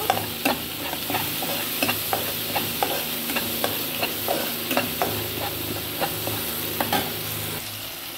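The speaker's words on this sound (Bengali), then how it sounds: "এবার এটাকে ভালো করে কষিয়ে নেব।" Spice paste with salt, turmeric and Kashmiri chilli powder is stir-fried in a pan, a steady sizzle underneath a regular rhythm of spatula scrapes and taps, close and unhurried, with no talking.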